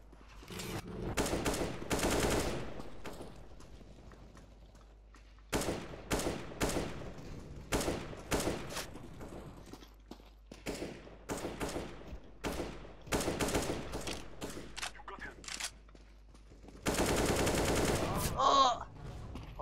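Automatic rifle fire in CS:GO, several loud rapid bursts separated by pauses, with a few shorter volleys and a final long burst.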